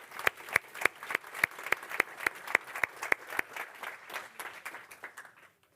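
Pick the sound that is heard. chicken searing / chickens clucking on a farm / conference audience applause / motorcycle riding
conference audience applause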